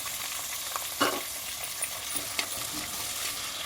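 Sliced onions sizzling in hot oil with whole spices for a dhaba-style chicken curry, a constant close fry hiss broken by a few sharp scrapes and clinks from stirring.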